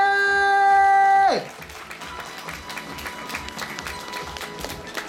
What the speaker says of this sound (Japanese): この5人にも大きな拍手